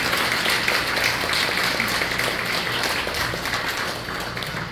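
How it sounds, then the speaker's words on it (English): Steady broadband applause from a room of luncheon guests, many hands clapping together in a dense, continuous patter that holds evenly for several seconds before thinning slightly at the end. "you really do deserve, once again, a round of applause"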